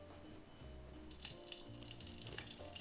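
Water drops flicked from a wet finger into a pan of hot frying oil, crackling and sizzling steadily at close range with brief sharper pops, no voices over it.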